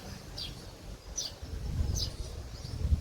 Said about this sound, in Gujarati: એના ભેગો ચકલીનો એટલો અવાજ આવતો હશે ને